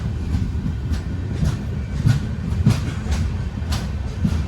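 A passenger train on the Porbandar to Thiruvananthapuram route pulls into Thiruvananthapuram North station, heard from on board as its wheels clack over rail joints in a loud, regular rhythm above a steady rumble.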